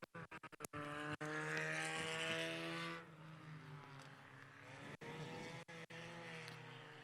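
Hornet class race cars, old four-cylinder Chevy Cavaliers with roll bars, run on the short track at USA Raceway, engines droning loudly with a sustained close pass that fades into distant revving.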